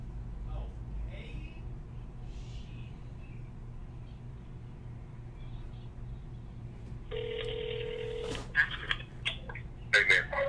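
A telephone on speakerphone gives a steady electronic ringback tone, then a few short dialing beeps and tones, set over a low room hum with faint background voices during a basketball draft.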